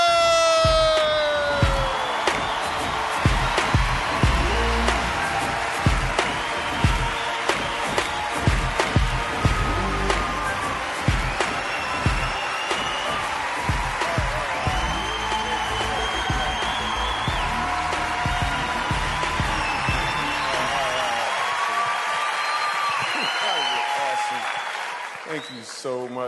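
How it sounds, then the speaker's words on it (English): A stand-up comedy audience applauds loudly and cheers for comedian Michael Jr. as he comes on stage, with dense sustained clapping and whoops that gradually fade near the end. "why y'all stop clapping?"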